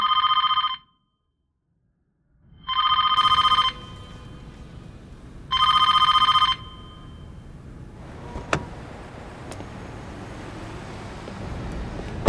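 A telephone rings three times in loud, evenly spaced electronic bursts with silence between them, then gives way to quieter room noise and faint knocks.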